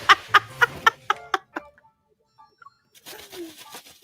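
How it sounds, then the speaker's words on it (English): Seagulls in the game Love and Deepspace burst into a noisy flurry, a rapid series of loud squawking calls up close that thin out into scattered faint cries and a rustling departure. "The birds clump together in a noisy flurry as they fly away."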